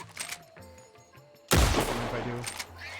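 Gunfire from a gun in the Red Dead Redemption game on a WildRP server: a loud burst of shots hits midway and rings out into an echoing tail, after quieter game sounds.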